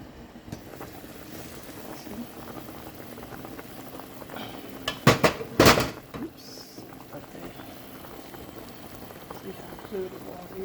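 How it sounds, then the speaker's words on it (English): Pork hocks boiling in a pot of clear water, a steady low bubbling simmer running throughout with a brief louder burst of clatter midway, no talking. "so my meat came back to a boil"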